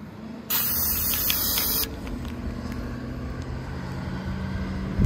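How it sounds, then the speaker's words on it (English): A close aerosol can of Flex Seal sealant sprays in one hissing burst of about a second onto a skylight, over a low outdoor rumble. "Spray on this side too."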